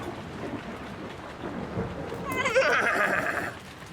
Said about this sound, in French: Paquita est effrayé par l'orage